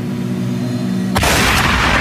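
A single loud gunshot booms in the horror game Psychopath Hunt 2, cutting sharply through a steady low background hum and leaving a broad noisy tail.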